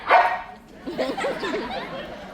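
A person imitates a tiny dog's bark with a quick nasal yip, followed by a run of short, squeaky voiced yaps.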